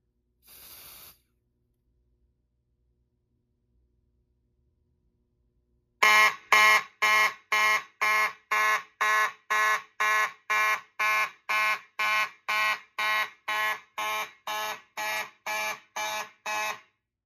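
A short hiss of spray into a smoke detector, a few seconds of silence, then a fire alarm horn on a Simplex 4001 panel set to march time blasts in fast, evenly spaced pulses, loud and close, continuing to the end.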